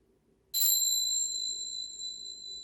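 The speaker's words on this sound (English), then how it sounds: "I'm going to use these little chime bells." A small chime bell struck once during a yoga relaxation, ringing out clear and bright, then sustaining and slowly fading in a quiet room.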